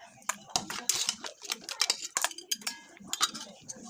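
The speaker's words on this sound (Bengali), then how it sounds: "এবার আমি কাঁকড়াটা ঢেলে দিচ্ছি।" Hot Bengali-style crab curry is poured out of a pan, with a metal utensil scraping and clinking against the pan in quick, irregular, close strokes.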